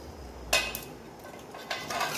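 A spoon scrapes and clinks in a bowl as heated sesame oil is stirred into mango pickle, a few close, sharp taps over a quiet background.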